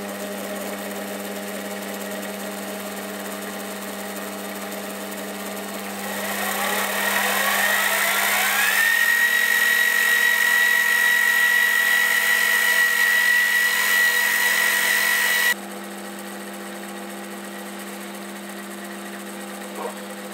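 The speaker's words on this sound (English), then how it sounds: "let's spin the motor up" A Warco mini lathe's upgraded motor spins up from a steady background hum, its whine climbing in pitch over several seconds, then settling into a loud, even drone before cutting back to a lower hum.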